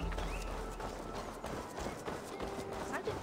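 Rapid clip-clop of horse hooves at a run in Assassin's Creed Valhalla, mixed with game sound effects and a background voice.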